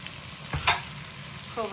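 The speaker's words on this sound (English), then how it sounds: "So I'm adding these onions to the curry lamb" Onions hitting a pot of curry lamb for Jamaican-style cooking, a brief burst of frying hiss and stirring scrape over a low steady sizzle, close and moderately loud.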